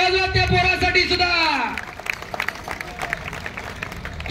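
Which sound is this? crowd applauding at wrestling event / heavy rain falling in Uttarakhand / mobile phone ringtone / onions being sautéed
crowd applauding at wrestling event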